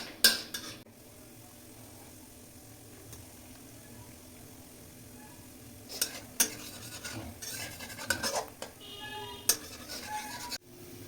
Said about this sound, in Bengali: এতগুলো নাটস একটা পিওর ঘিতে রোস্টেড হচ্ছে